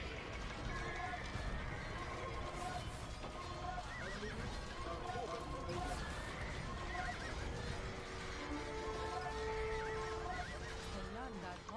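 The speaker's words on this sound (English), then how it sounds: "I got a cav charge going this way" Horses whinny and neigh repeatedly over a dense battlefield din with galloping hooves during a cavalry charge in a medieval strategy game, steady and loud throughout, with voices talking underneath.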